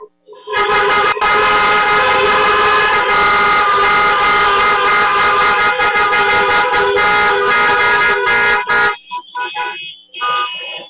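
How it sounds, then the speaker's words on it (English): Loud, sustained honking from many car horns at a drive-in blaring together for several seconds, then breaking off into scattered toots. "let's get a round of honks for all the volunteers and the staff."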